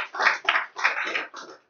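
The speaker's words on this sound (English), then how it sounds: "Can I just have a round of applause for all our presenters today?" Brief audience applause for presenters at the close of a live-streamed seminar: a dense patter of many hands clapping that rises and dips in a few uneven waves, moderately loud and fairly close, then thins out within under two seconds.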